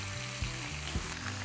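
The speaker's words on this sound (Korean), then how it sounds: "당근을 넣고 1분 정도 구워주고요" Carrots frying in a pan with oil, giving a steady close sizzle with a few soft stirring bumps, and no one talking.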